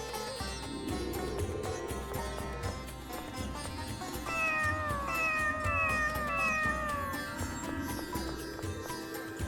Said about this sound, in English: We had a good conversation with that cat.